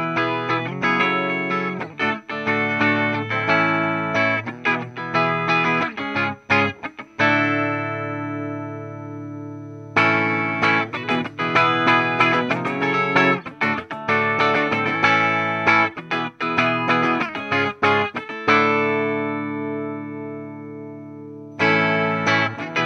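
Electric guitar with an overdriven OCD pedal tone played through a Fender '65 Twin Reverb reissue fitted with new tubes, loud chords and riffs ringing out in bursts with sustained decays and short pauses.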